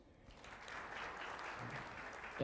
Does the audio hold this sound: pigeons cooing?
no